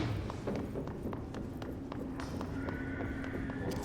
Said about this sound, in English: That footstep sound always gets me